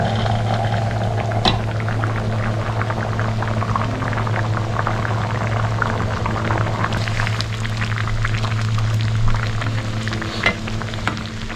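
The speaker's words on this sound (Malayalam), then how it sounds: "ഇതിൽ കിടന്ന് നന്നായി തിളച്ച് വേവട്ടെ." Red lentil dal bubbles in a pot with a steady low simmer and soft popping. A constant hum sits beneath it and there is no talk.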